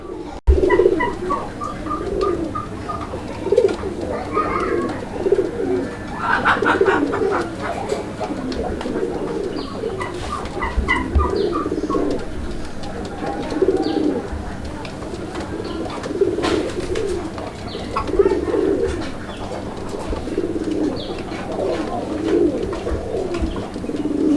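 Pigeons for sale coo steadily in soft, repeated throaty phrases, several birds overlapping close by, with occasional chirps and faint background noise throughout.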